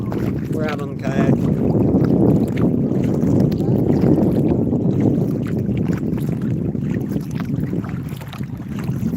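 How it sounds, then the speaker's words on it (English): Kayak out on a windy lake, with water sloshing and paddle strokes under heavy wind buffeting on the microphone, continuous and close. "We're out on the kayak."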